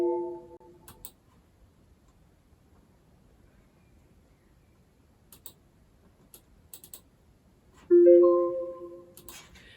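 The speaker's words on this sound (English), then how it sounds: "notification sounds are different" Two short Windows 8 notification chimes, one at the start and one near the end, separated by quiet broken only by faint clicks.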